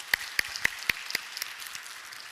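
Sparse, scattered clapping from a church congregation thanking a jazz trio after a Christmas service performance, a handful of distinct claps fading quickly into quiet.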